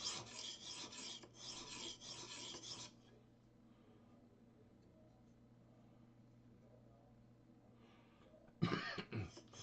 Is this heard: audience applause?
no